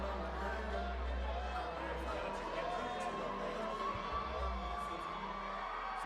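A steady roar of crowd noise and cheering fills a boxing arena in Detroit before a women's bout, a continuous loud wash with a commentator talking over it.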